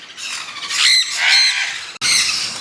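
Tame talking parrots kept for sale squawk loudly and close by, giving a few harsh, shrill calls in quick succession with a brief break before one more squawk.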